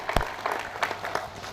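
A seminar audience claps in scattered bursts, a few sharp claps standing out over a steady patter of applause that carries on through the moment.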